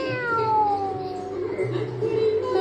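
A child imitates a cat's meow with drawn-out, wavering mewing cries, fairly close and clear, followed by a short lower vocal sound.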